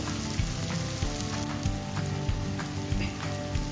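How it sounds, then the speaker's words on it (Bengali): Sliced onion frying lightly in a pan for Bengali dahi katla fish curry, giving a steady close sizzle with small crackles and a few soft spatula taps throughout, with no talking. "পেঁয়াজটা জাস্ট অল্প ভাজা হয়েছে"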